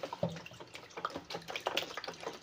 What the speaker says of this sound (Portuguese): Vamos estar colocando a metade dessa água,